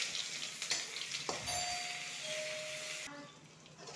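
Chopped onions frying in a pan for a mushroom dish, giving a faint, soft sizzle in a quiet kitchen, with a thin steady tone drifting underneath.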